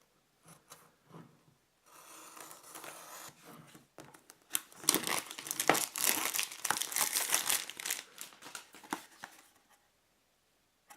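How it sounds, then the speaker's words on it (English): Shrink wrap is peeled off a glue gun box, giving crinkly plastic rustles. A few scattered crackles come first, then a longer stretch of dense, close tearing and crumpling that tapers off near the end. "now let's go ahead and peel off the shrink wrapping"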